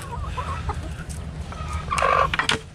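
A Rhode Island Red hen gives a few soft, short clucks close by, over a low background rumble of a farmyard, with no talking.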